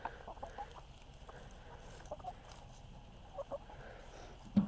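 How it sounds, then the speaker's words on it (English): Backyard chickens, including a gray hen, cluck softly in a garden during a January cleanup, the scattered faint calls low in level over a quiet outdoor background. "Go straight to the chickens."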